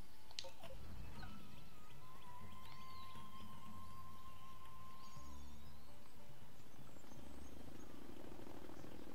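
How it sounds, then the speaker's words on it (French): Helicopter rotor thrum with a steady whining tone in the video game Zoo Tycoon on Xbox One, layered over game ambience and a few faint chirps, no talking. "Regardez, il arrive par hélicoptère."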